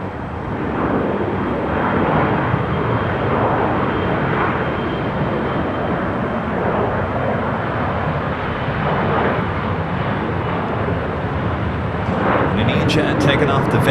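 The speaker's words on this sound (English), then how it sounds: "Jet taking off to Vegas, Alaska Horizon, flight 2183." Jet airliner at Los Angeles International Airport (LAX), an Alaska Horizon regional jet departing, gives a steady broadband engine roar that holds loud across the whole stretch, with faint talk over it.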